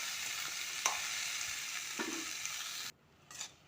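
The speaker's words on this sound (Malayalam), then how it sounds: "ഇനി നന്നായി ഇളക്കുക" Onion frying in a pan as a stirring spoon scrapes through it, a soft steady sizzle with a couple of sharp clinks before the sound drops away near the end.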